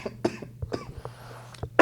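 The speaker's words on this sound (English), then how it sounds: "Just a cough." A man coughs several times in short, harsh bursts at close range during a podcast, with a quiet steady hum beneath.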